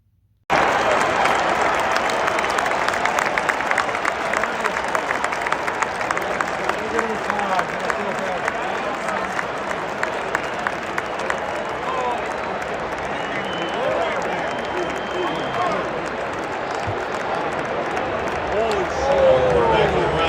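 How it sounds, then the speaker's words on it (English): Football crowd in a stadium roaring and cheering continuously for about twenty seconds, a dense wash of massed voices with scattered claps that swells slightly near the end, following an injury to the Browns quarterback. "this is the best video I found that I could hear of the cheering at all"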